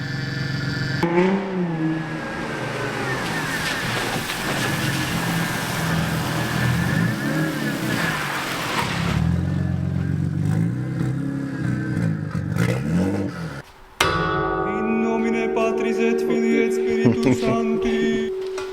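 An Audi S4 engine revs repeatedly, rising and falling in loud sustained surges, then drops briefly before a steadier high-pitched engine tone continues, with no talking over it.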